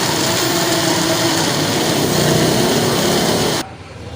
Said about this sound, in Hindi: जो प्याज हैं हम इसको करेंगे ग्राइंड। ये हम ग्राइंड कर रहे हैं।